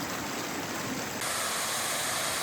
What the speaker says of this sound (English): We left our packs back there so we could walk up to this waterfall.